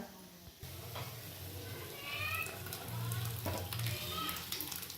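Moong and chana dal tipped into a hot pan bring a steady sizzle that swells partway through, with a low bubbling hiss and no voices.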